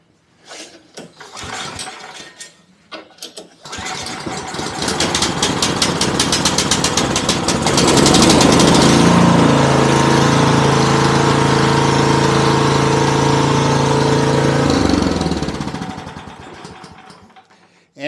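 A Toro Power TRX HD 1428 OHXE commercial snow blower with a compression release is pull-started: a few short recoil pulls, then the engine catches and runs loud and steady nearby for about ten seconds before cutting off.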